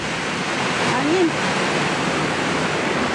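Steady, roaring broadband noise of strong wind buffeting throughout, with a brief faint voice partway through.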